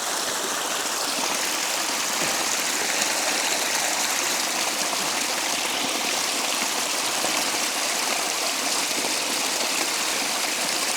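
Moorland stream water on Kinder Scout rushing steadily as a 400ml bottle is filled, a continuous broad hiss and splash that stays even and close, with no voices.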